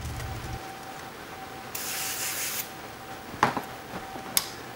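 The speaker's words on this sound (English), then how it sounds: "And I just take it and I wipe it off." Towel sprayed with cleaner and wiped across a homemade power stinger cable setup, a brief close rubbing swish, then a few light knocks and handling clicks in a quiet room.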